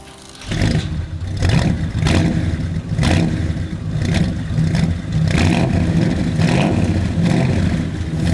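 A Holden HQ Monaro V8 starts after a brief quiet moment, then revs in repeated loud surges over a rumbling idle, close by, with no one talking.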